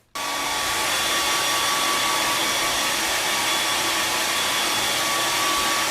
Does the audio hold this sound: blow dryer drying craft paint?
yes